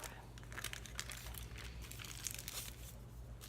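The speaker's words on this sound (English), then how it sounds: "And then close your foil up." Aluminium foil crinkling and folding closed during a hair-foiling session in a salon, a continuous close, soft crackling with small crisp peaks over low background hum.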